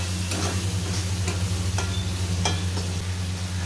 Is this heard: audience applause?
no